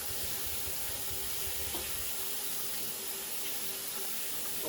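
Water runs steadily from a tap while something is rinsed out during a fishing outing, a constant close hiss with no talking.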